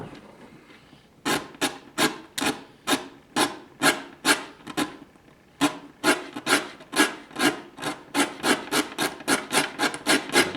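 Pigmented lacquer being rubbed and rasped off a wooden surface in steady, rhythmic strokes, each pass a loud, close scraping burst, after a brief quieter lead-in and a short pause midway.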